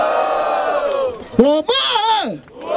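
A crowd at a rap battle in Barueri, São Paulo, shouts and whoops in a loud rising burst that swells and falls over a few seconds.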